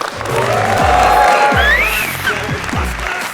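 A studio audience applauds to welcome a guest onto an interview show, with dense clapping that holds steady and loud and has music and voices mixed underneath.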